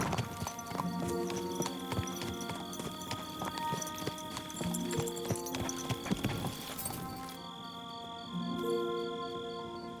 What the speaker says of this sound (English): turn that horse around